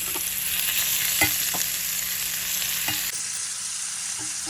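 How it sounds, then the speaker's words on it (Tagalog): Beef sizzles steadily in a hot pan with bacon, giving a constant close frying hiss, with a few soft clinks of stirring and no voices. "Ito na ang ating baka, igisa natin dyan."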